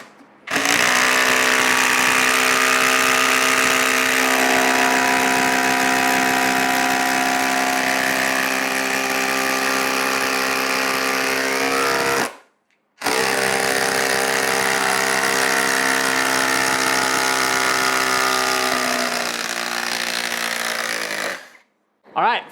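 A Ryobi 18V brushless impact driver drives a 6-inch lag screw into wood with a loud, continuous hammering buzz that runs for about twelve seconds, stops briefly, then resumes for another long stretch, close up.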